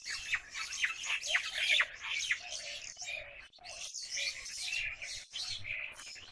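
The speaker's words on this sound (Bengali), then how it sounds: "এখন বলতেছে হটকিটি পাখি।" A hotkiti bird calls again and again in a village, a steady stream of squawks and chirps that is fairly close and clear over a low, quiet background.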